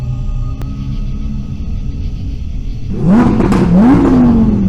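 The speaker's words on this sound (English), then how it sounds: "hears the roaring engine of the car behind him" A car engine revs up and roars loudly, rising in pitch twice over a low steady rumble.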